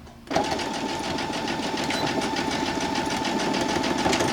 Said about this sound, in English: Then I will zigzag stitch it along where I feel the other